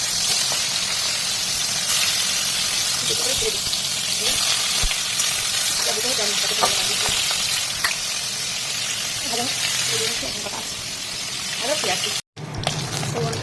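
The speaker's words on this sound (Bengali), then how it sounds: "তো চলো বানাই, ভাজতে শুরু করি মাছটাকে।" Fish frying in a pan in a home kitchen, giving a steady, fairly loud sizzle and hiss that runs almost unbroken with a few brief spatters, while a voice talks over it for much of the time.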